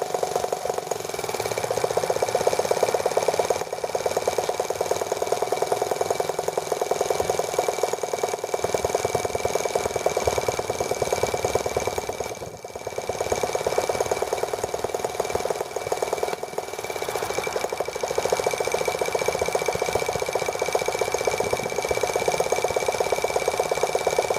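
A small T26 engine idles steadily while being adjusted, a continuous buzzy mid-pitched drone with a light rattle and a brief dip midway, no speech.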